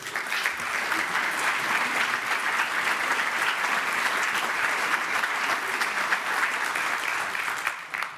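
Sustained, enthusiastic audience applause at a leadership forum welcoming two speakers, dense clapping that holds steady for about eight seconds before starting to taper at the very end.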